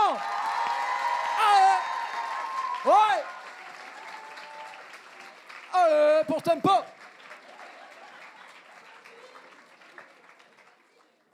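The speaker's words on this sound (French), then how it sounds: "je vous demande de faire un tonnerre d'applaudissements" Applause and cheering at an eloquence contest evening, a sustained roar of clapping with whoops and shouted voices rising above it, and someone speaking over the crowd at moments before the noise gradually subsides.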